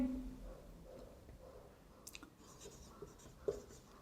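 A pen scratches across paper while a tax calculation is worked out by hand, with soft, faint, intermittent strokes and a few small taps and clicks over quiet room noise.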